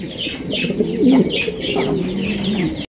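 Roman pigeons, large-bodied birds in black and other colours at a breeding farm, coo steadily in low throaty rolls close by, with several birds overlapping and faint chirps above.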